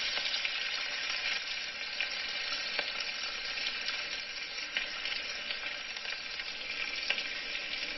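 Steady, continuous sizzle of elephant yam frying in oil for biryani, a dense bright hiss with small crackles throughout and no voices.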